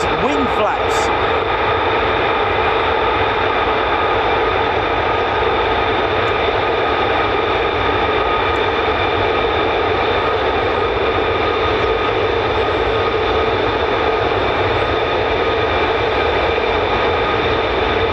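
An F-35C carrier-variant fighter jet at RAF Lakenheath produces a continuous loud, steady engine roar with a whining tonal edge, sustained without break throughout and heard from a distance across the airfield.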